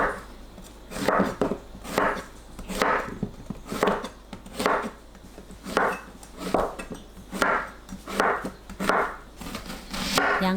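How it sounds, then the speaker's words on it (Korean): A knife chops a round zucchini, its ends already trimmed, into large chunks on a board, giving about a dozen steady, evenly spaced thuds close up with no talking. "4등분 해서 큼직하게 썰어주세요."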